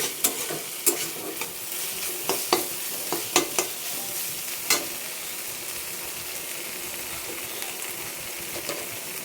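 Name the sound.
stirring mocha curry frying in a pan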